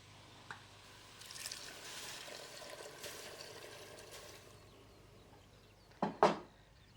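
Potatoes and water tip into a pot for an American-style chowder, landing as a short, close double splash near the end after a soft, quiet rustle.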